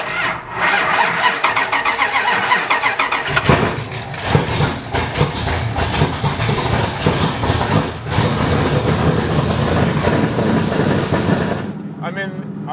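A 1968 Plymouth Road Runner with no mufflers and straight 3.5-inch exhaust on each side cranks over and fires up, then roars loudly and steadily for several seconds before cutting off abruptly near the end, with voices talking over it.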